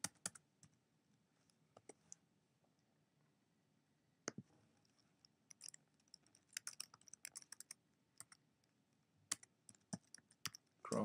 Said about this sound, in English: So you can just type into any web search.